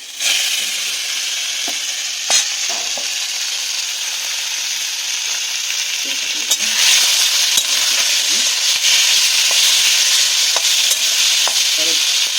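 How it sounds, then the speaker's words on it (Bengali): Onions sizzle and crackle loudly in hot fish oil in a pan, a continuous bright frying hiss with occasional sharp pops and stirring scrapes, growing slightly louder partway through. "পেঁয়াজের সঙ্গে আমি তেলটা দিলাম বলো তো, যাতে পেঁয়াজটা ভাজা হতে হতে তেলটাও ভাজা হয়ে যায়"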